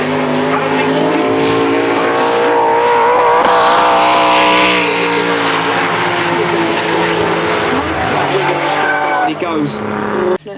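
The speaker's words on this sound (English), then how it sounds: "nice lead line so far from Mr. Brown in the BMW powered Nissan running gear" Drift cars at the British Drift Championship at 3 Sisters circuit, including a BMW-powered Nissan, roar loudly and continuously with screeching tyres, close up, fading briefly near the end.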